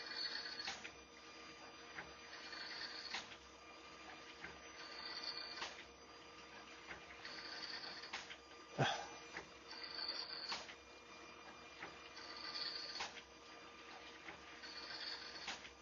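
A CNC lathe cuts threads on an Aero Solus rifle barrel. A steady mechanical whir rises and falls in repeating passes, punctuated by sharp ticks and one louder clack midway.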